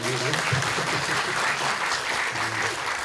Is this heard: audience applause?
yes